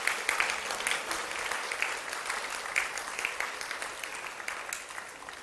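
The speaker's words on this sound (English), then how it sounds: "Can we have a huge round of applause?" Steady applause from a summit audience for host Dr. Achyuta Samanta, many hands clapping at a moderate distance with sharp individual claps poking out, fairly faint and without talk.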